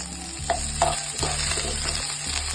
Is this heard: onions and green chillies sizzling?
yes